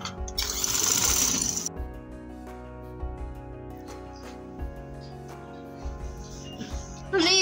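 A sewing machine stitches along the edge of shalwar fabric, a loud steady whirring run near the start, then quieter intermittent short bursts of stitching with handling noises.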